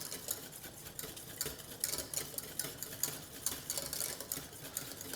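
A whisk or spoon works fast through thickening egg yolk mixture in a pan over medium heat, producing quick, irregular scraping and clicking strokes close up, soft but continuous, with no voices.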